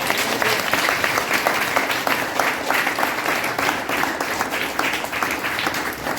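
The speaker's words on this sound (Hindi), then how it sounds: "अपने लिए ताली बजाइए।" A church congregation claps together, a dense, steady round of applause with rhythmic peaks filling the room, fairly loud and close, with some speech beneath.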